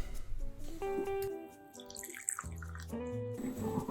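Water trickles and splashes into a vessel of carnitas spices, with a gurgling pitch shift partway through as it fills, fairly quiet and close, no voices.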